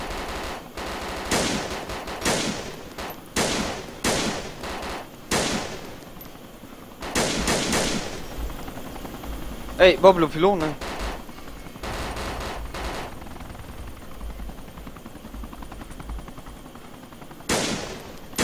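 Gunfire in the video game DayZ comes in several loud bursts of rapid shots spread through the scene, with a brief voice speaking between them.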